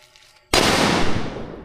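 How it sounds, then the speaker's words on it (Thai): A lit firecracker set off inside a thick steel pipe as a device for scaring off wild elephants in a wildlife sanctuary, one sharp loud bang after a quiet moment, followed by a long rumbling echo that slowly fades. "โดยใช้ให้ปลอดภัยนะเป็นลูกประทัดจุดนี่เนี่ยแต่ว่าอุปกรณ์ช่วยก็จะเป็นท่อเหล็ก ท่อเหล็กหนาหน่อย"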